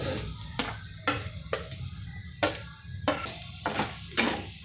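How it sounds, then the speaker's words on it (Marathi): Mashed boiled potatoes with salt and turmeric are stirred in a pan, giving rhythmic scraping strokes about every half second, close and moderately loud. "आता हे सर्व आपण बटाटा सर्व मिक्स करून घेऊयात"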